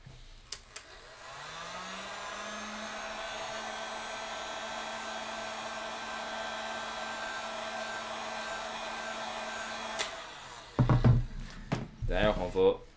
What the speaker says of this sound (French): il y a une bosse qui est plus facile à faire, à enlever au heat gun